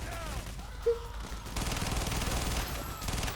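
Gunfire in the Payday: The Heist video game, with a Glock pistol in use during a counterfeit heist: dense, sustained rattling shots that continue throughout at steady loudness, with a brief louder pop early on.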